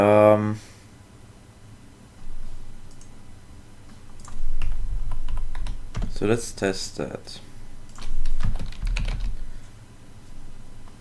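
Keys clatter on a computer keyboard in quick bursts of typing, close and fairly loud, with a person talking between and over the keystrokes.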